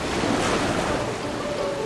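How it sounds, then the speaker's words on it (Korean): Strong sea waves pound the rocky shore of Cheongdeungdo, a small Korean island where seaweed grows, in a loud, continuous roar of surf and wind buffeting the microphone. "쉴 새 없이 바위를 때리는 세찬 파도는 세상 어디에도 없는 청등도만의 보물 미역을 키워냅니다."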